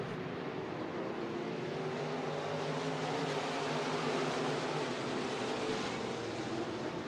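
A field of eighteen stock cars thunders into turns one and two at Junction Motor Speedway, a dense, steady roar of many engines blending together, heard from a distance at moderate loudness without breaks.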